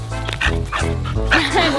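A woman's pet dog gives a few short yipping barks close by, mixed with whimpers during a dog activity session, with someone speaking encouragement over it.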